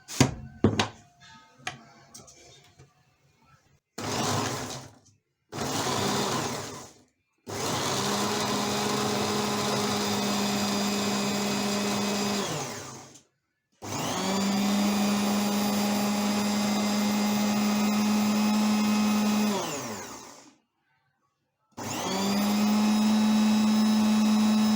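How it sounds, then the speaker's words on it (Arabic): An electric blender whirs through garlic for eggplant harissa in loud bursts of several seconds each, separated by pauses, with clunks and rattles of the jar being handled before the motor starts. "هنحط الثوم وهنضرب."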